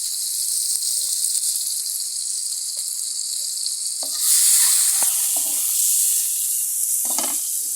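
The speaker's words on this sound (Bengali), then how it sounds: "এখন ডিম ভাজছি" Eggs fry in hot oil on a stove, giving a steady, loud sizzle throughout, with a few brief clinks and a swell of stronger hissing partway through as they are moved in the pan.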